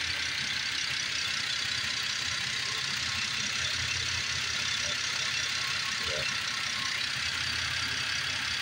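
A 2009 Chevrolet Impala LS fleet car idling with the hood open, a steady low engine hum under a constant high hiss, smooth and even throughout with no talk.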